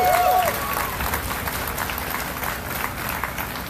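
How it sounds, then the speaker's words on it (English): Outdoor rally crowd applauding on a hot weekday, a steady dense wash of clapping that holds for several seconds, with a brief whistle or cheer near the start. "So give yourselves a round of applause too"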